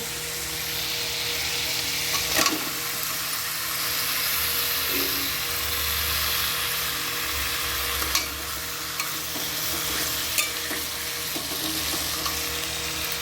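Taro leaves frying in a pan of spice tempering, a steady close sizzle running throughout with a few sharp clicks of stirring against the pan and no talk.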